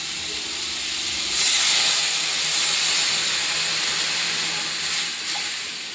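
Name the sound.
water added to frying spice paste with garlic and bay leaf, sizzling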